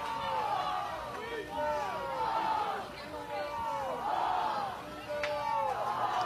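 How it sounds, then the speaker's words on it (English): Softball stadium crowd chanting a player's name in rhythmic, repeated sung phrases, many voices together under a steady crowd murmur, at a moderate distance. "Crowd chants Brito bomb, Brito bomb."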